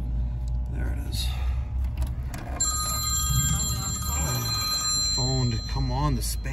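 A telephone rings with bright repeated trills during an HVAC service call on an AC unit with burnt wires and a blown capacitor, heard clearly alongside a man's speech and some background rumble.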